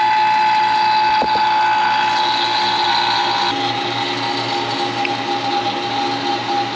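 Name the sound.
vacuum pump running on AC system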